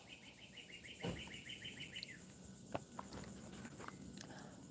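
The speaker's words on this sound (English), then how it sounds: "Do you hear my birds singing?" Birds chirp and call outdoors in a quiet setting, with a short run of rapid repeated twittering early on and scattered faint chirps and light rustling after it.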